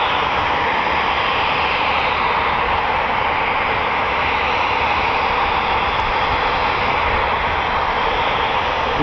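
A Eurofighter Typhoon FGR4 jet roars steadily and loudly at an RAF quick reaction alert station, a dense, unbroken engine rush with no talk.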